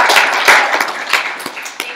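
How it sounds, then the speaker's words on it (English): A live audience claps for a woman named Tan as she is introduced as a speaker, a dense burst of handclaps spreading through the room and thinning out over two seconds with no voices over it. "So clap it up for Tan."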